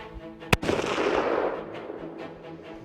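A single sharp rifle shot cracks out during a bull hunt, then a long, loud rolling echo that decays over a couple of seconds outdoors.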